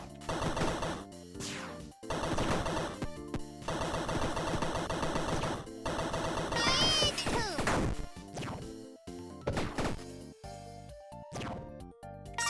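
Repeated heavy gunfire bursts and crashing impacts from a shotgun in a video game, loud and dense over game music with short gaps between shots.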